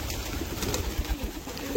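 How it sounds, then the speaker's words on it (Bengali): Pigeons at a feeding spot cooing softly up close, a short low murmuring call over a light background hum. "কিছু পায়রা নামছে না, উপরেই রয়েছে"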